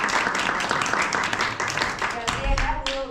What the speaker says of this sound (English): Let's give applause.